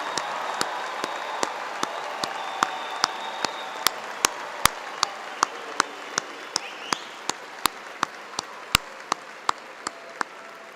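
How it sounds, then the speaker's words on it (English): An audience applauds the spring 2026 engineering graduates at a commencement ceremony: a steady wash of clapping with sharp, regularly spaced louder claps cutting through for about ten seconds, at moderate level. "we should take a moment to applaud all of our graduates for the spring 2026"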